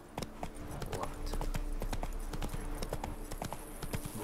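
Horse Roach gallops in The Witcher 3, hooves pounding in a fast, even clip-clop rhythm, close and steady throughout with no talking.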